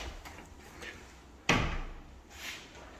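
A coat closet door attached to a laundry room opens with a sudden, fairly loud thump, followed by faint rustling in a quiet room.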